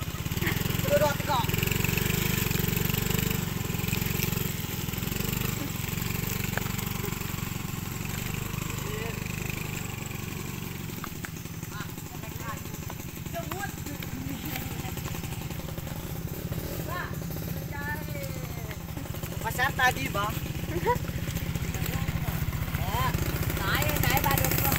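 A motorcycle engine runs steadily for a long stretch with a low rumble, on a rough rural road in East Krayan, with people talking over it and some clattering.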